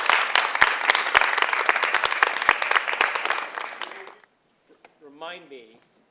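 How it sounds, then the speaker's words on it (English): A small acting-class group applauds for a classmate, dense clapping for about four seconds before stopping abruptly, followed by a brief voice. "Let's give Christine a round of applause"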